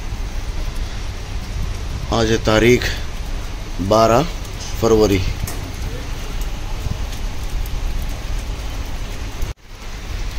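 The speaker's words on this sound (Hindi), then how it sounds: "ये देखो बारिश लग रही है कुवैत में." Rain falls in Kuwait City as a steady, dense hiss, continuous and fairly close throughout, while someone speaks briefly over it in short bursts.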